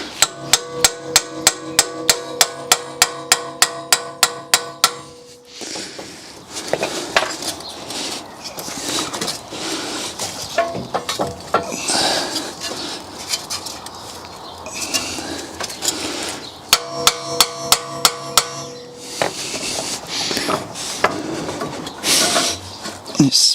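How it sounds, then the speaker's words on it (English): A hammer taps a chisel to free a stuck part from a car hub: bursts of rapid, sharp metallic strikes at the start and again midway, with scraping and handling noises between and a person speaking. "I'm going to get something hard and flat like this chisel, tap it in there, and then hopefully release it"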